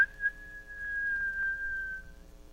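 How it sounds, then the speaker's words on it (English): A single long, shrill whistle holds one high pitch for about two seconds, clear and prominent against near silence. "He pushed it open and gave a shrill whistle."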